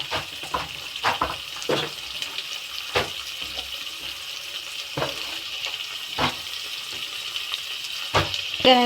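Onion and vegetable pieces fry in a pan with salt added, a continuous close sizzle punctuated by repeated sharp crackles and pops of spattering oil.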